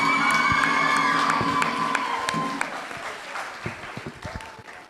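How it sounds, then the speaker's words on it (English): A graduation ceremony crowd applauds and cheers loudly with claps, whoops and shouting voices, slowly easing off toward the end. "They deserve the loudest applause for all that they have done for us."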